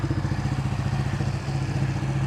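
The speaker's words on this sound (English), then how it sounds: "I'm gonna head home to my place with this beautiful Ducati Panigale" A Ducati Panigale motorcycle on a highway ride gives a steady, loud engine drone with a low rumbling pulse that holds throughout, with no talking.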